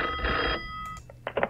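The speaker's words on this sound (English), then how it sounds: "Answer the phone? Who could be calling me at this time of night?" A telephone rings in a horror video game set at night, with short bursts of bright electronic ringing that stand alone and fairly loud.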